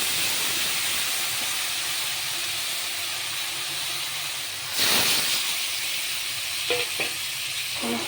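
Raw mango pieces drop into hot oil tempered with five-spice for a sweet pickle, and a steady loud sizzle and hiss fills the whole stretch, swelling sharply midway as they land, with a few faint clinks later.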